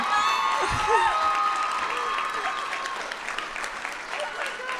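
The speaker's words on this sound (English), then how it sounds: "These guys deserve another round of applause." A crowd at a college fashion show applauding steadily for several seconds, dense clapping with a few whoops and voices mixed in.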